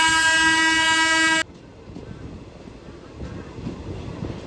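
A train on the Bhavnagar to Botad route sounds a loud, sustained horn as it arrives at the station; the horn cuts off abruptly, followed by a lower, continuous rumble of the rolling train.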